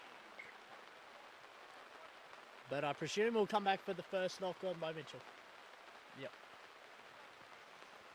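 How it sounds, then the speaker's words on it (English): Rain falls steadily on an outdoor rugby field during a second XV match between CSU and Mudgee, a soft continuous patter under a commentator's voice. "this rain is getting heavier and heavier"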